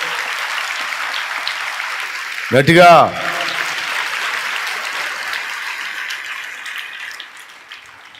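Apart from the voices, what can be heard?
congregation applauding for God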